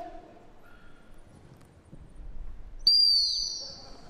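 A sharp, high shrill blast from a dog training whistle during a gundog display at Crufts cuts in near the end over quiet outdoor rustling and sounds of movement.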